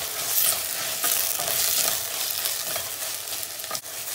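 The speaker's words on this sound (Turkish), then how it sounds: "Domatesleri de karıştırdık." Tomatoes are stirred into frying tomato paste in a pot, giving a steady hissing sizzle with repeated scraping strokes of the spoon close up.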